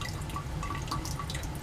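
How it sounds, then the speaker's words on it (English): Liquid drips steadily from a separatory funnel into a flask during a Grignard reaction, small wet plinks recurring in an irregular rhythm over a low, constant lab hum. "It's actually dripping down the wall."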